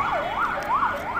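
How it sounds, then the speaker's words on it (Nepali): An ambulance siren wailing as ambulances pass on a road near a crossroads, a loud rising-and-falling tone sweeping in steady cycles, near and alone. "यो एम्बुलेन्सहरू पास भइरहेछ"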